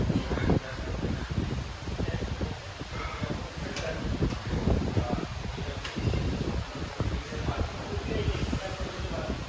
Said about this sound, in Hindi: भाई फैन की हवा मेरे हाथ में पड़ रही है